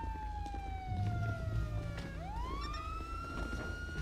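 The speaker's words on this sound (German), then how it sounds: "Die Sirene." A police siren wails steadily, sweeping down in pitch and then rising again, fairly close, with no talking over it.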